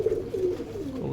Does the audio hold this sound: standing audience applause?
no